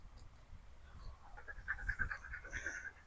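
A dog panting during outdoor training, soft rapid breaths that are quiet and close, with light background noise.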